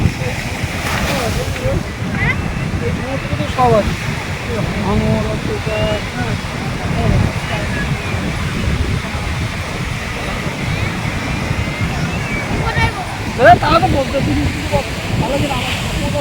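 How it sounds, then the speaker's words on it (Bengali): Ocean waves breaking on Puri beach at night in wet, windy weather, a continuous loud rolling surf with wind buffeting the microphone and voices talking over it. "তো রাতের সমুদ্রটা একটুখানি তোমরা দেখে নাও।"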